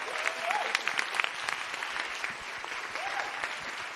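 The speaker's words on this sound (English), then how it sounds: "give them a massive round of applause, please" A live audience claps at a cabaret night at a radical book fair in Edinburgh, steady dense applause filling the room for the whole stretch, with a couple of brief whoops or cheers on top.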